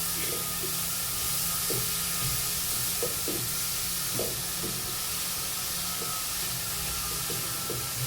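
Cabbage and carrot thoran with spices being stirred in a hot pan: a steady close sizzle with soft, irregular scraping taps of the spoon against the pan throughout.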